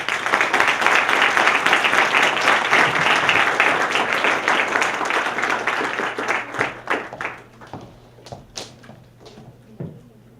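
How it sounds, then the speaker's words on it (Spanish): An audience at a book presentation applauds warmly, a dense sustained wash of clapping that thins into scattered individual claps and fades out toward the end. "Recibamos a continuación con un caluroso aplauso."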